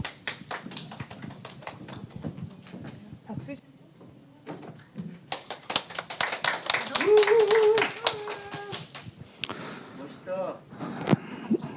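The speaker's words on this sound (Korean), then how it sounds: "리코어의 박범진 대표님과 최병록 대표님 두 분 박수로 모시겠습니다." Audience hands clap to welcome two presenters at a logistics meetup, scattered sharp claps running on and off throughout, mixed with a brief tonal music sting and some talk.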